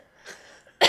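A single sharp cough bursts out at the very end, after a moment of faint breathy sounds.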